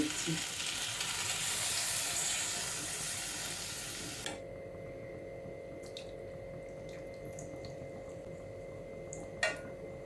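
Water poured into frying potato and pointed gourd curry sets off a loud, roaring hiss for about four seconds, which then drops to a quiet simmer with a few faint clinks.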